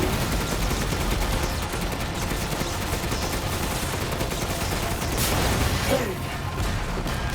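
Sustained rapid gunfire from the video game Resident Evil Village, a dense, loud, continuous barrage of shots and mechanical clatter with no clear pauses over several seconds.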